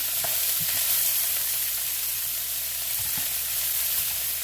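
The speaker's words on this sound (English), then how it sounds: "since I got my oil hot, I'm going to go y'all. Go ahead and get those veggies in." Broccoli, green peppers and onions sizzle in hot oil for a stir-fry, a loud steady hiss of frying with occasional soft stirring knocks and no speech.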